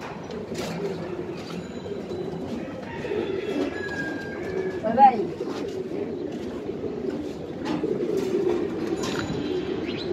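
Giribaz pigeons of the Palla line coo softly and intermittently amid a steady low background hum, with a few faint chirps and scattered rustles; a brief louder call stands out near the middle.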